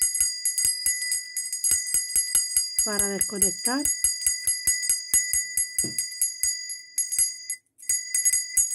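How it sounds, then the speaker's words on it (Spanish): Small bell chimes struck in a steady repeated rhythm throughout, bright ringing tones sustaining over a soft relaxation-style backdrop, with a brief spoken voice partway through. "Imágenes florales y toque de campana"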